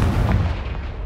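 A Confringo blasting spell bursting in a Harry Potter video game, a loud, deep rumbling boom that fills the whole moment close up, with no voice over it.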